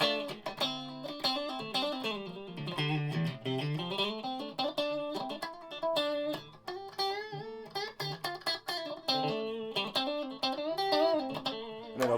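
An electric guitar played through a humbucker pickup with a bit of distortion, the pickups being thin vintage-voiced Super 70 units with a coil split, giving a steady run of driven chords and single-note lines, moderately quiet, with no talking.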